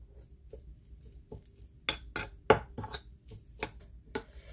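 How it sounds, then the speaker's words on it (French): Spoon scraping and clinking against a bowl while tomato paste and spices are mixed, a string of sharp utensil knocks and scrapes of varying loudness, close up with no talking. "avec le concentré de tomate, les épices et je mélange"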